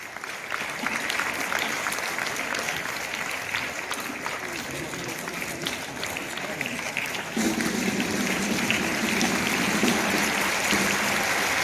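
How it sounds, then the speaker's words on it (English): Audience applause at a farewell event for a bishop, broad sustained clapping filling the hall for the whole stretch and growing slightly louder partway through. "let us give him a big round of applause"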